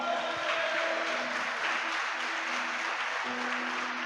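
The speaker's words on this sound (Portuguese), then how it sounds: "Você pode glorificar o Senhor, aplaudindo o Senhor bem forte" Church congregation applauding during a worship service, a steady wash of clapping from many hands, moderately distant and even, with faint tones of music or voices underneath.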